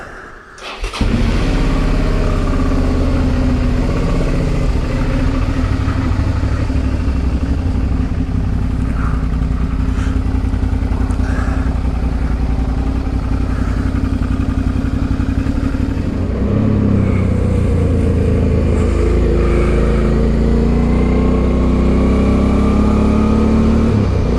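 Suzuki V-Strom 650 motorcycle fitted with a new 21-inch knobby front wheel, running on a test ride: a loud, steady engine drone that starts abruptly, holds for a long stretch, then shifts pitch as the revs change near the end.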